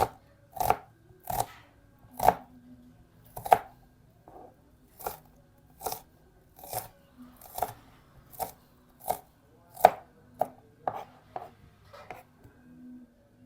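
Spring onion leaves being chopped with a knife on a cutting board, about a dozen crisp, evenly spaced chops, close and clear against a quiet background, with no talking.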